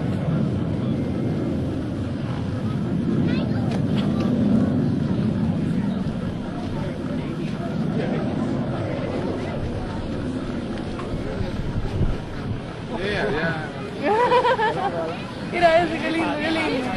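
US Navy Blue Angels jets flying a Delta Loop Break at an air show open house give a broad, rushing roar over a crowd, with spectators chattering and calling out throughout as the noise rises and falls.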